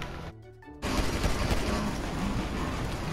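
Civilians open fire in the GTA V Online game's Survival mode, a brief pause followed by a dense, continuous burst of rapid gunfire with crackling shots and crashes.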